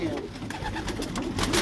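Pigeons cooing inside a racing pigeon loft, soft repeated throaty coos from several birds close by, with background noise and flutter filling the space.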